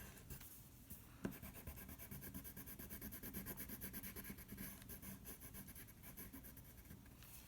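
A pencil pressed hard against paper scratches steadily in a rapid back-and-forth shading rhythm. It is very faint and close, with one small tap near the start.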